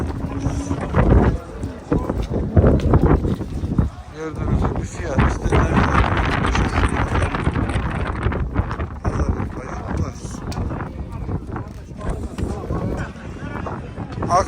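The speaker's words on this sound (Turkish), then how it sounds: "Rüzgar fırtına var." Strong stormy wind buffets the microphone at an outdoor livestock market in Şarkışla, roaring in heavy continuous gusts while someone talks over it.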